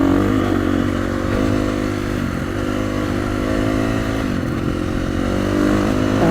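Off-road motorcycle ridden along single track, its engine droning steadily and loud throughout with rising and falling revs and some clatter, close by and with no talking.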